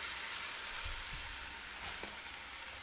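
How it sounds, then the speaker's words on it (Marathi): Ginger-garlic paste frying in a pan for pav bhaji gives a steady, close, dense sizzle that holds level throughout, with no talking. "जसजशी ती आलं लसणाची पेस्ट भाजते"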